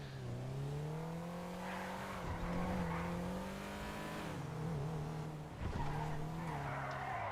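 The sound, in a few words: car tires skidding during a J-turn in GTA video game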